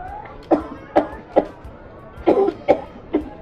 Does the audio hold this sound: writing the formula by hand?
no